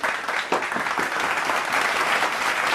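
Studio audience on a comedy quiz show claps loudly and continuously, a thick even patter of hands that stops abruptly at the end.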